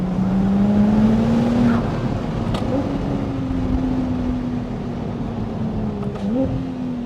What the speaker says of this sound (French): T'entends les turbos derrière.